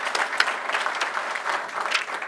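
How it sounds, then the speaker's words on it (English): A luncheon audience applauds its media sponsors with a brisk, continuous clatter of many hands, fairly close and steady throughout, with no voices over it. "Please join with me in giving them a round of applause."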